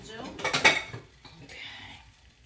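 A plate picked up and handled in a home kitchen, a quick cluster of ceramic clinks and cutlery rattles up close, then a quieter scrape trailing off.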